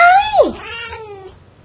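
A cat yowls in a video game, a loud wavering cry that slides down in pitch and then trails off with a shorter fading tail.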